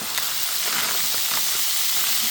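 Shallots frying in olive oil, a loud, continuous close hiss and sizzle with faint crackles, no voices.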